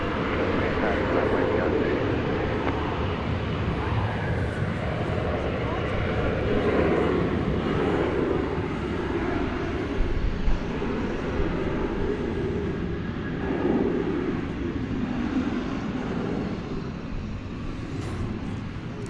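Airplanes take off at night at DFW Airport, a broad rumbling roar of jet engines that swells and holds across the stretch, with voices talking over it.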